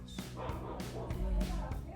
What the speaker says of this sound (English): my dog is barking really loud